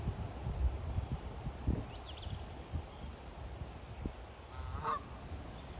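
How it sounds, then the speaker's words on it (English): A goose honks faintly in the distance, a couple of short calls over rustling and wind-like outdoor ambience. "Do you see the geese?"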